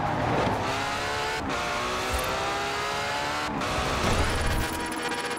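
A car driving hard in the Forza Horizon racing game, its engine revving and accelerating with steady gear-change shifts and brief tire squeal, loud and continuous throughout.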